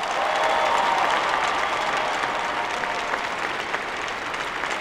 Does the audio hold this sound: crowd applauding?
yes